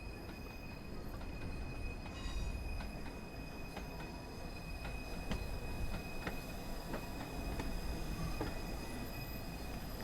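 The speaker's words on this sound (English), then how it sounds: "we are definitely waiting on a train over here to come in" Steam train pulling into a station in Train Sim World 2 on the Liverpool to Crewe route, a faint, distant rolling rumble with squealing wheels and sharp rhythmic clicks of wheels over rail joints, heard alone without voices.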